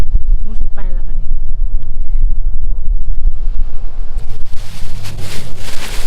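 Strong wind at the seashore roars and buffets the microphone in a constant heavy rumble, with surf hissing in as a voice speaks nearby.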